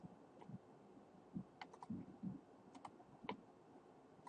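Keys on a graphing calculator are pressed one at a time in soft, close, irregular clicks, about a dozen presses in quick succession.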